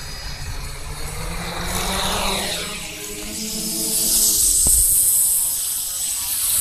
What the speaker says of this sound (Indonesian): mencoba rakitan drone sendiri